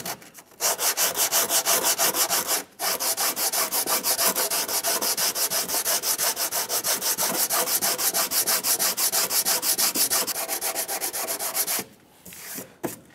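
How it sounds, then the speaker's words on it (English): Hand sanding a 2001-2006 Chevrolet Silverado 2500 truck cab corner with 80-grit sandpaper wrapped around a 2x4 block: steady, rapid, close back-and-forth rasping strokes, with a short break early on and another near the end. "we just took our sandpaper and wrapped it around a little piece of 2x4 just to give us a nice flat surface"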